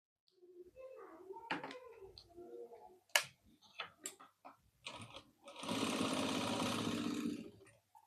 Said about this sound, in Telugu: ఇలా స్టిచ్చింగ్ వేసేసుకోవాలి మనం